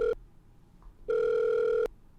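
Telephone ringing on an outgoing call: a short tone burst, a pause, then a longer steady electronic ring of just under a second, fairly faint and clear with no talking.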